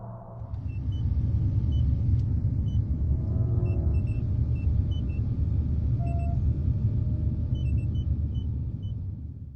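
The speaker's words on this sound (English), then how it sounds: "Observing these vehicles speeding through the green light," Steady road traffic rumbles past at a signal-controlled intersection as vehicles drive through on a green light, a continuous loud engine and tire drone with faint high beeps scattered over it.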